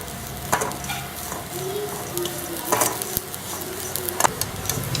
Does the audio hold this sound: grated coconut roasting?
yes